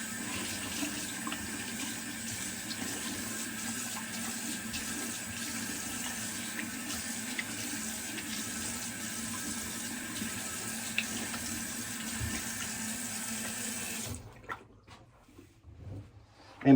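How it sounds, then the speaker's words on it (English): Cold water runs steadily from a bathroom tap as alum is rinsed off a freshly shaved face, a constant close splashing stream that stops abruptly near the end. "I'll get the alum off with cold water."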